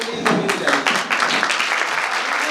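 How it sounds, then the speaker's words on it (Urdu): A church congregation applauding during a pastor's sermon, a steady burst of many hands clapping at once, fairly loud and sustained throughout without a break. "تو اگر آپ تالیاں بجانا چاہتے ہیں تو پلیز ابھی بجائیے"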